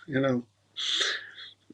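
A single sharp sneeze bursts out alone at mid-volume, preceded by a brief voiced sound, in a quiet room during a casual live-streamed men's gathering.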